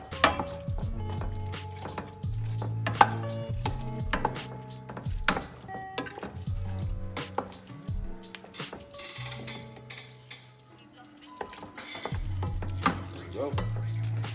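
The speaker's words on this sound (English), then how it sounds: "all we're gonna do is come and stir it in" Jollof rice with tilapia fish is stirred in a pot, giving scraping and clinking spoon strokes over a steady sizzle, with music-like tones running underneath.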